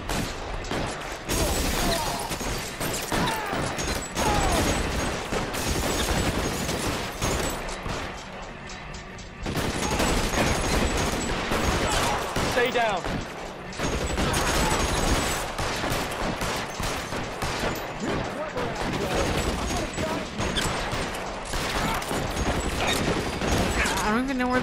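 Sustained gunfire in an L.A. Noire police shootout, dense overlapping shots and bursts filling the scene nearly throughout, with a brief lull before the volley resumes, loud and close, with voices talking over it.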